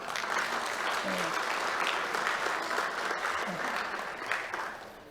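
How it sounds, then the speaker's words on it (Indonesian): A crowd of attendees at an open senate meeting of a theology college in Jayapura applauds steadily, a dense, even patter of many hands that fades toward the end. "Jadi tepuk tangan."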